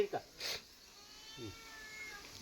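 A cat gives a couple of brief, soft meows, separated by a quiet pause, with faint background noise.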